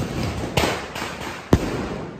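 Diwali firecrackers burst outdoors in two sharp, loud bangs spaced about a second apart, standing out over a steady background hiss.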